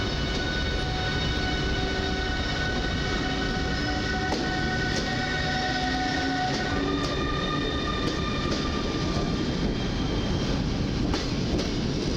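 An EU160 Griffin electric locomotive hauls the Express Intercity Tatry train out of a station, a loud, steady rumble of rolling wheels with rail clatter and high tonal motor whine close by, continuing unbroken with no talk.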